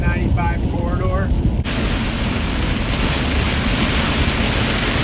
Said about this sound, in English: this heavy rain is definitely creating the potential for flash flooding